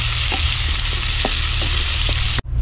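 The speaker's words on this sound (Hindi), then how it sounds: "प्याज भी इसमें डालते हैं और प्याज को अच्छे से लाल करके फ्राई करेंगे हम तेल में।" Onions fry in hot oil in a pan for a village-style soybean curry, giving a steady close sizzle with faint scattered pops and stirring clicks, cutting off abruptly at the end.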